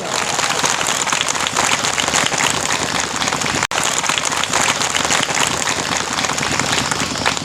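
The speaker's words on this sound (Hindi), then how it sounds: "चलिए चाला आपको ताली खड़का जोर से जय सेना ताली खड़का" A rally crowd claps loudly in a continuous, dense roar with a brief dropout midway, filling the space without any talk over it.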